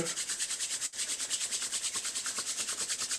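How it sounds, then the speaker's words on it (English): Palms rubbed briskly against each other during a yoga session, a close rhythmic swishing friction in quick even strokes with a short break near the start, no talking. "Raise both palms up over the body, rub them against each other"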